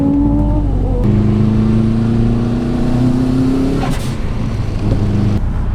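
A Nissan 240SX turbo drift car, its engine running high boost, revs loud and close from inside the car, holding a steady droning pitch before easing off, then picking up again.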